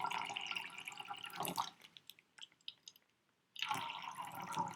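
Water pours and drips out of a single hole in a plastic bag in a steady close stream, broken by a brief quiet gap before the flow resumes.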